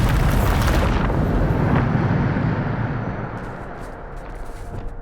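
Bombarda explosion spell in the video game Hogwarts Legacy: a loud, sustained blast with a rumbling roar that slowly fades over several seconds.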